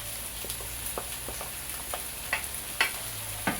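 Tilapia and seasonings are stirred in a frying pan over a soft, steady sizzle, with scattered scraping and clinking taps of a utensil against the pan and no voices.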